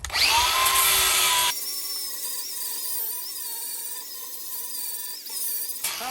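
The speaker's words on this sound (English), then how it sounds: "Next step, I'm gonna grind that off so I can put my tube on top." A power grinder cuts metal off a pickup truck bed support with a loud, high, steady whine up close. The tone shifts partway through, and there is no talk.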